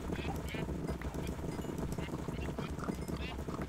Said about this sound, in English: Oh, there was a horse.